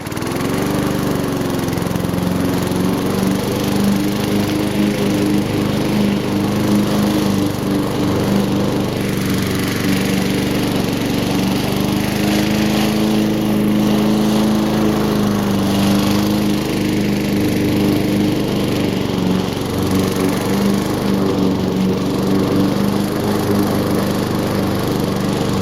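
A lawn mower engine runs after a carburetor cleaning, a loud, steady close-up drone with a slight wavering in pitch that holds through the whole stretch without any talk.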